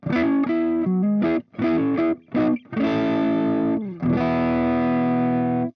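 A Les Paul electric guitar on its neck pickup, played through a compressor, rings out in a few short chord bursts with gaps, then longer sustained chords, loud and up close with a slightly distorted tone.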